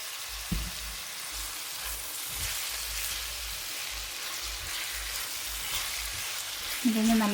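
Chopped onions with salt sautéing in a pan give off a steady broadband sizzle, with a few soft utensil knocks and a brief voice near the end.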